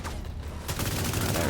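Dense automatic gunfire rattles in The Division 2, a loud continuous barrage that grows heavier partway through, with a voice partly buried beneath it.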